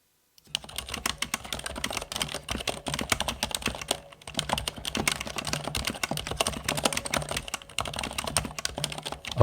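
Steady, fast typing on a keyboard fitted with Cherry MX Silent Red switches, a dense run of soft, muffled keystrokes close to the mic that continues without pause throughout.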